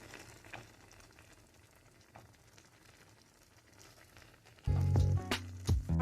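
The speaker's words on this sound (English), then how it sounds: "we're going to bring it up to a light boil" Hamburger gravy made with garlic powder in a pan, heating toward a light boil: a faint low bubbling hiss that swells abruptly near the end into louder, steady simmering and sizzling.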